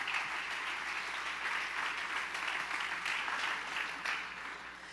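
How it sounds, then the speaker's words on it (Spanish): Audience applause at a church talk on anger, a steady, fairly faint wash of many hands clapping that carries on without a break and tapers slightly at the end. "Démosle un fuerte aplauso al Señor"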